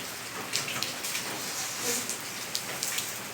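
Steady rain pours outdoors, a dense even hiss of falling drops with sharper splats and drips hitting a nearby surface now and then, heard alone without any voices.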